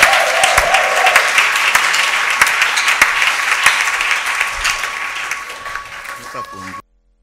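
A church congregation at Bread of Life bursts into loud, sustained applause praising the Lord, with rhythmic clapping throughout and voices mixed in before it cuts off suddenly.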